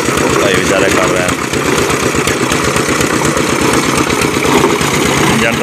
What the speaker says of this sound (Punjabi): ਇੰਜਣ ਤੁਹਾਨੂੰ ਚੰਗੀ ਤਰ੍ਹਾਂ ਦਿਖਾ ਲਵਾਂ